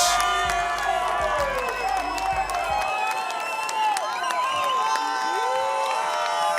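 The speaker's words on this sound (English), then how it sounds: "They are singing and cheering for Carlos and his team." A crowd in a culinary competition hall sings and cheers for the Spanish team at Bocuse d'Or Europe 2024, with whoops, scattered clapping and sustained voices blending into a loud, continuous roar.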